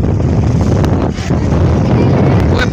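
Strong Kalbaishakhi storm wind blasts across a boat out on an open haor wetland, a loud, continuous roar buffeting the microphone for the whole stretch.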